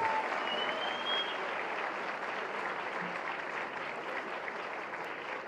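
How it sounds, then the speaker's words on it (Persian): An audience at a ceremony honoring a Persian television series applauds Sara and Nika, with steady, even clapping from the crowd that continues evenly throughout. "سارا و نیکا رو خواهش می‌کنم تشویقشون کنم"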